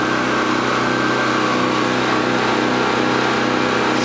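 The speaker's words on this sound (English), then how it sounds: "I can't hear this over the noise of the engine." A Predator 3200/4000 watt portable generator engine runs steadily and loudly, seemingly slow, a constant droning hum with no pauses, close by.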